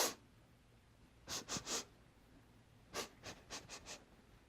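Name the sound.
voice imitating sniffing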